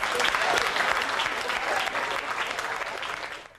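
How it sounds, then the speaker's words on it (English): Audience applause fills a jazz tribute event honoring Los Angeles jazz personalities, a dense, steady clapping from a crowd that holds throughout and tapers off at the end. "A round of applause for these great personalities of jazz."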